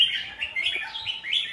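A songbird sings a rapid run of close, clear, high chirps and warbling notes that rise and fall in quick succession, with no one talking.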